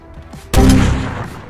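A single loud gunshot boom in a video game, sudden and close, with a rumbling tail that fades over about a second.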